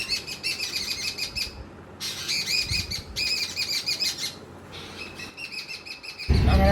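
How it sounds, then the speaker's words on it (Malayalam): Birds chirp and twitter in a home yard paved with interlock tiles, bright repeated calls coming in bursts over a low background murmur, fairly near and clear. "കിളികളെല്ലാം കൂടെ അതാ ഇവിടെയാണ് ഇപ്പോൾ വന്നിരിക്കുന്നത്"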